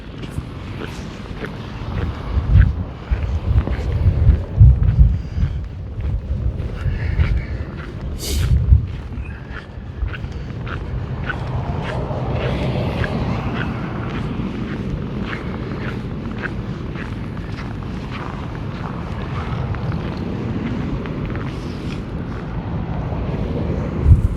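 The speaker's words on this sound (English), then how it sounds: "There's some high wind snow blowing right into our face." High wind in a winter blizzard roars and buffets the microphone, blowing snow in gusty bursts that settle into a steady, loud rushing wash.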